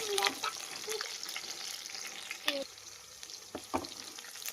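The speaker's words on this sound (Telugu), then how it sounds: "మనకి ఇవైతే మొత్తం బాగా ఫ్రై అయిపోతున్నాయండి." Spices fry in a pan for chicken curry: a faint, steady sizzle with a few sharp utensil clinks and scrapes scattered through it.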